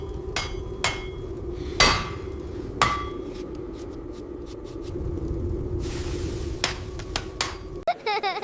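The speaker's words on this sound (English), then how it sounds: "Craftsmen hammer bronze and ivory." Craftsmen hammering bronze, a series of sharp metallic strikes ringing out at irregular intervals over a low background rumble, with a busier clattering burst near the end.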